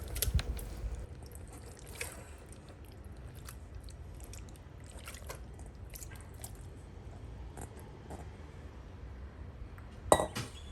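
Marinated meat goes into a Thermomix bowl, making wet squelching and soft slapping sounds with occasional clinks of utensils on the bowl, close and fairly quiet, and a sharper clatter near the end.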